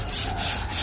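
Sanding on a four-foot statue under restoration, a close, continuous abrasive rubbing with a few slight surges as the strokes repeat, brief and on its own.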